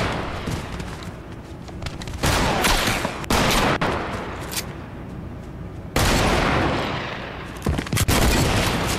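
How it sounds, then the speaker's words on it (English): Shotgun blasts in the Fortnite video game ring out as loud, sharp reports spaced a few seconds apart, with other gunfire and scattered impacts crackling around them. "Oh, it's a shotgun."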